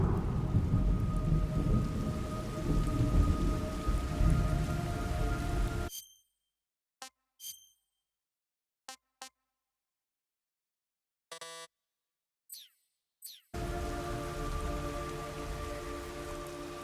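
Steady heavy rain with rumbling thunder in the stealth game Metal Gear Solid 3, loud and continuous for several seconds, then cutting to near silence with a few short isolated bursts before the downpour returns.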